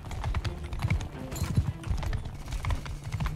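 Horse hooves pounding at a gallop in the medieval combat game Mount and Blade 2: Bannerlord, a dense, steady clatter of hoofbeats that runs the whole time with faint battle noise mixed in.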